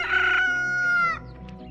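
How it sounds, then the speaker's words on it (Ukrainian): A rooster crows once, loud and close: a long, bright, drawn-out call that tapers off near the end, heard alone with no talking. "Аж тут іде півник золотий грибенець, на плечі косу несе."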